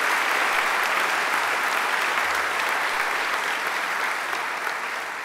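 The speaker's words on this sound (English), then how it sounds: "I think you should give her another great round of applause." A large graduation-ceremony audience gives a sustained round of applause, dense and even clapping that fills the hall and tapers slightly at the end, with no talking.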